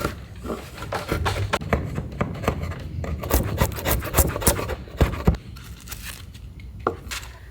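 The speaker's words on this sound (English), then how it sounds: "I'll be chiseling away the plywood layer here" Chisel cutting away a plywood layer on a sailboat's king plank, a dense run of close, rough scraping and cracking strokes with sharp wood-splitting hits.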